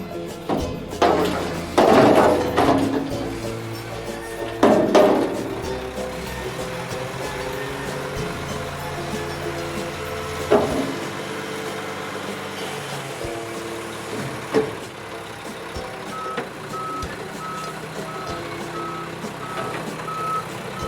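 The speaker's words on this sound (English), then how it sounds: "garbage truck," A garbage truck rumbles close by, with heavy knocks and clanks early on, then a steady, evenly spaced series of reversing beeps near the end.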